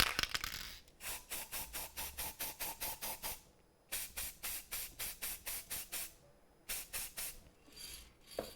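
Repeated short spray bursts from a spray can in three runs of quick, evenly spaced hissing puffs, each run separated by a brief pause, close and fairly loud, no talking.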